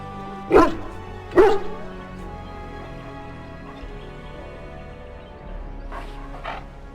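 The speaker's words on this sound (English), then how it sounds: "So, you managed to solve Nan's dog issues" Dogs barking in the video game Dragon Age Origins, two loud close barks early, then a quieter pair of yips near the end over a low ambient game hum.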